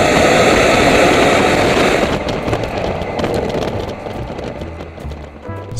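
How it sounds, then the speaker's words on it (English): Exhaust note of a 2015 Hyundai Genesis sedan with a 3.8-liter 311-horsepower V6, a loud broad roar that fades into a lower, steadier rumble as the car passes. "And here's the exhaust."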